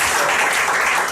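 A class of students applauds together at the end of a lecture period, a short burst of dense, even clapping filling the room.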